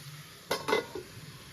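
A metal lid clanks onto a cooking pot of chicken, two quick close clinks followed by a softer settling tap against a faint kitchen background.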